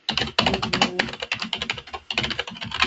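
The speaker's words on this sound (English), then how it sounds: "I'll go ahead and type it in there again." Rapid typing on a computer keyboard, close and clear, with bursts of keystrokes and a brief pause midway, no voices.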